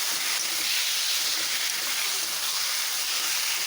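Taro leaves with bean seeds sizzling while frying dry in a pan, a continuous dense, bright hiss that stays steady and close throughout with no voices.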